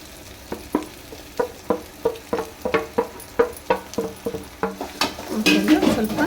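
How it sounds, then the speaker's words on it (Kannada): Brinjal frying in oil in a pan while a spoon stirs it, giving a steady run of sharp scraping taps over a soft sizzle that swells louder at the end. "ನೋಡಿ, ಚೆನ್ನಾಗಿ ಎಣ್ಣೆ ಬದನೆಕಾಯಿ ಕೊದೀತಾ ಇದೆ."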